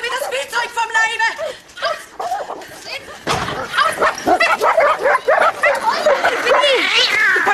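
Several small dogs bark and yip excitedly and without pause, high and close, mixed with whimpers while people shout and talk over the commotion.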